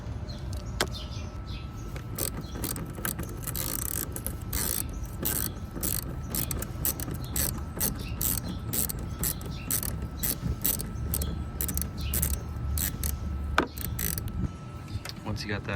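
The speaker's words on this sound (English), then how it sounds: "you want to take a 7mm and loosen that hose clamp" 7mm ratchet clicking rapidly and steadily while loosening a hose clamp on a Bronco 2.7L air intake, close-up and continuous throughout with no voices.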